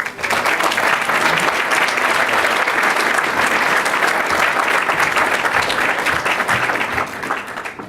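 Loud, sustained audience applause greets Illinois Senate Minority Leader Bill Brady as he comes to the podium, a dense steady clapping that lasts several seconds before fading slightly at the end.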